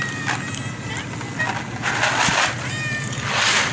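Several cats meow repeatedly while being fed outdoors, their calls rising over steady background noise and rustling.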